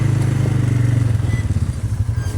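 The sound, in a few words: ATV engine while plowing snow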